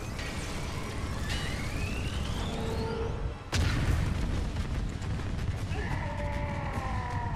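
A large explosion tears through the scene during a live end-of-season event in Fortnite, a sudden sharp boom midway that swells into a deep rumbling roar, with siren-like rising and falling tones before and after.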